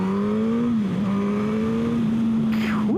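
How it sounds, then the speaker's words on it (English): A 2016 Suzuki GSX-S 1000 motorcycle engine drones loud and close at steady revs, pitch dipping slightly and then climbing sharply at the end, with wind noise underneath. "I love the sound of this bike."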